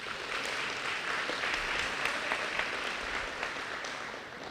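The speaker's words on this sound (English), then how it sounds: "So give Sam applause for me." Sustained audience applause fills a banquet hall at a recognition dinner, a steady dense patter of many hands clapping at moderate loudness without pause, no speech over it.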